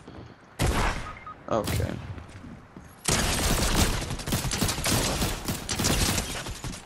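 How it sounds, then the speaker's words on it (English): Rapid bursts of pulse rifle fire in a Fortnite match crackle loudly, a short volley followed by a longer sustained stretch of gunfire, with a player speaking briefly over it. "Oh my god, they have a pulse rifle."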